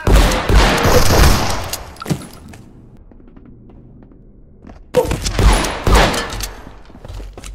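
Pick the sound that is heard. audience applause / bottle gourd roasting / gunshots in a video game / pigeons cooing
gunshots in a video game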